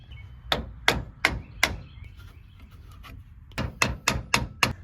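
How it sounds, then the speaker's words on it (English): A hammer strikes metal repeatedly in sharp, ringing blows, banging out a Jeep Wrangler YJ leaf spring bushing: four evenly spaced hits, a short pause, then a faster run of five more. "grab my hammer, and we can bang everything the rest of the way out"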